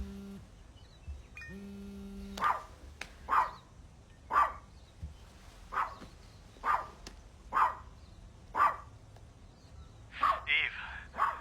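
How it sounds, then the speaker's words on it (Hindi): A dog barks in a steady series of about nine single loud barks, evenly spaced and close by, in an otherwise quiet indoor scene from a horror movie, with a couple of electronic tones just before the barking begins. "भौंकना बंद करो बिकी"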